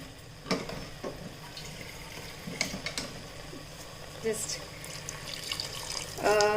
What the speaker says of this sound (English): I'm just going to put little water, just so that it won't get burnt at the bottom